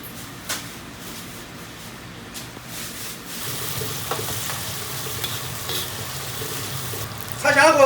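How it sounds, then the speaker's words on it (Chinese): Whole spices and a few pieces of rock sugar stir-frying in a wok for spicy braised duck heads, a continuous sizzle under repeated scraping and tossing strokes that swell louder near the end. "把料一定要炒香"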